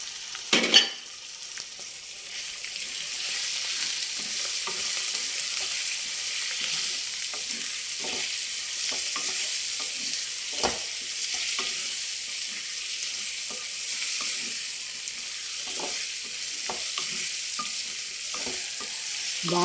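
Marinated prawns with spices going into a hot pan for a raw mango prawn curry, giving a steady loud sizzle with occasional stirring scrapes and no talking.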